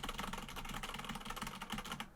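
Computer keyboard typing picked up by a sensitive condenser microphone, a fast, steady clatter of close, crisp key presses running without pause before stopping abruptly.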